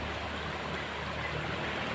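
A river stream flows in a rural spot, a steady close rush of water that holds an even level throughout with no voices.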